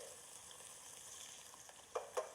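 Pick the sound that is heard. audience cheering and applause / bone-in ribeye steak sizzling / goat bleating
bone-in ribeye steak sizzling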